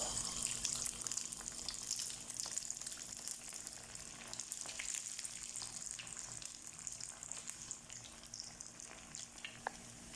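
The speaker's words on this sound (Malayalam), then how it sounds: "ഇനി നമുക്കിത് എണ്ണയിൽ വറുത്ത് കോരാം" Rava masala bondas frying in a pan of hot oil, a continuous dense crackling sizzle that stays even throughout, close and fairly soft, with no talking.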